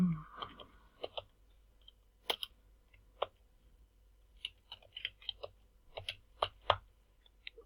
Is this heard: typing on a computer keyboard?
yes